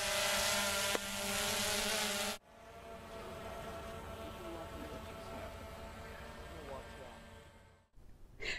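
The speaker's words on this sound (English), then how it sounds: "here you see the quadcopter taking off for the first flight" A DJI Phantom II quadcopter drone takes off in the South Louisiana Gulf Coast environment. A loud, close whirring buzz lasts about two seconds, then drops to a softer, steady drone as the drone climbs away.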